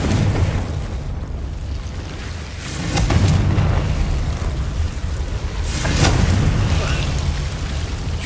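Confringo spell explosions in Hogwarts Legacy, two swelling booms about three seconds apart over a constant roaring wash of game ambience, loud and dense with no clear speech.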